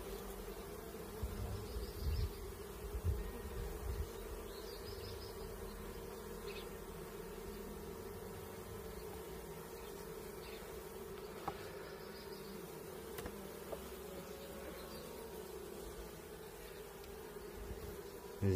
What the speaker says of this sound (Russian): Пчелка вон уже выходит.